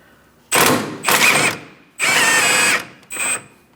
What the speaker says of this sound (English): I'm going to try first just spinning off that nut.